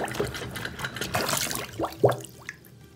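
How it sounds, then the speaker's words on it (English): Water drains from a bathroom sink after unclogging, with irregular gurgles, glugs and bubbling pops close by, no talking. "the clog is not big because it's actually draining fairly quickly"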